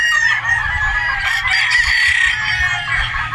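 A Boston Roundhead gamefowl rooster crows loudly and clucks close by, a strained, sustained call with harmonic bands that fills the whole stretch, over a low background rumble.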